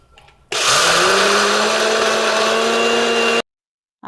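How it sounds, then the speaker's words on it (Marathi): Roasted chickpeas and jaggery whirring in a mixer grinder, a loud continuous motor roar that starts abruptly, holds steady for about three seconds, then cuts off. "हे आपण आता ग्राइंड करून घेऊया."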